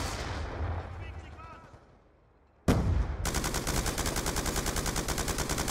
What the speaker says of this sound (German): Ich muss ein bisschen mit C4 rumschmeißen.